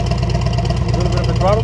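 A motorcycle fitted with a Tab Performance Redline slip-on exhaust idles steadily with a loud, close, even rumble, and someone talks over it.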